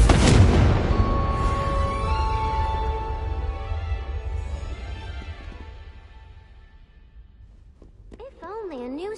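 A Confringo fire spell detonates in Hogwarts Legacy with a loud, close explosive boom, then a long ringing, fading tail that slowly decays over several seconds before a voice briefly speaks at the end.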